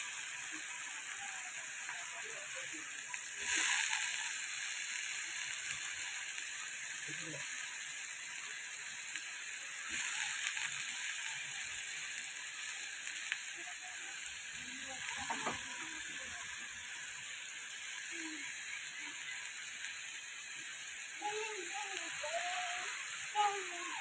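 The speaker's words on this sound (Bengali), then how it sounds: "এগুলো আগে একটু ভালো করে মশলা টশলা ফ্রাই করবো।" Spices and plenty of onion frying in a pan for Maggi noodles, a steady soft sizzle with occasional stirring clinks and scrapes, fairly quiet and continuing throughout.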